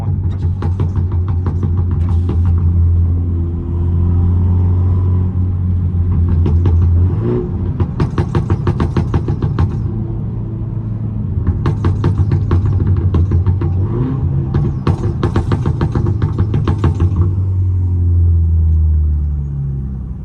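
A BMW 330i fitted with a stage 2 downpipe exhaust drives along with a deep, loud engine drone, breaking into repeated bursts of crackling burbles and pops as the throttle lifts, heard from inside the car.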